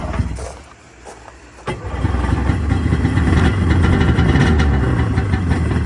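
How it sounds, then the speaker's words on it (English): A vehicle engine cranks and starts after its battery was charged overnight, a short stutter of cranking before it catches and settles into a steady, fairly loud running idle. "Lorelai, fire it up."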